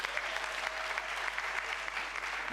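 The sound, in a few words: audience applause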